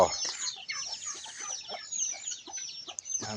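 Chickens clucking on a Thai backyard farm among fruit trees, a busy overlapping flock of short, bright clucks and calls close by, steady and alone with no talk.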